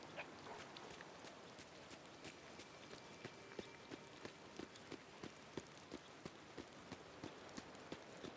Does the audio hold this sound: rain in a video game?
yes